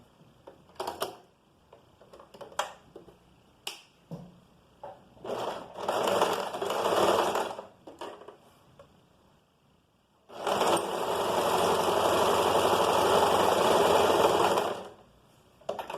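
A sewing machine stitches a seam along a fabric edge, first in several short stop-start bursts, then in one long steady run before stopping.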